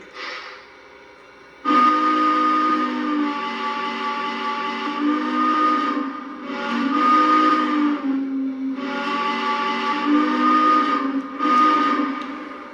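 A Southern Pacific Daylight model steam whistle on a Lionel Legacy locomotive sounds in several long, steady blasts with short gaps between them, loud and clear with a chord-like tone.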